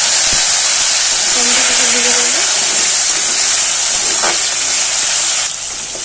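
Chopped tomato frying in oil with cumin and cardamom gives a steady, fairly loud sizzling hiss throughout, easing slightly near the end, with a brief faint voice-like sound in the middle.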